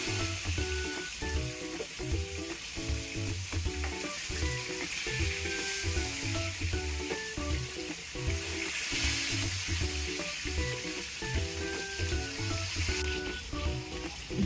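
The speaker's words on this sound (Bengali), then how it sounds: "মাছগুলোকে আমি কড়া ভাজা করে নেব।" Rohu fish pieces deep-frying in hot oil for a Bengali dopeyaja, a steady loud sizzle running throughout with occasional stirring clinks, no voices.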